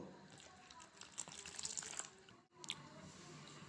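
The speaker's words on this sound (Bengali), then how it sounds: "এবার আমি অল্প অল্প জল দেব আর একটা ডো বানিয়ে নেব" Water poured a little at a time into flour for kneading dough in a home kitchen, a faint trickling and splashing with a short pause midway, then a brief brighter splash.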